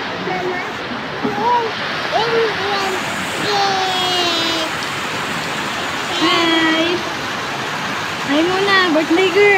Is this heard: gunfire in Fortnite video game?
no